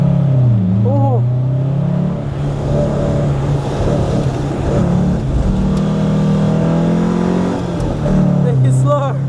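A car engine drones and revs steadily at close range as it is driven around a wet track day circuit at Snetterton after being bump-started, with the engine note rising and falling and people talking over it.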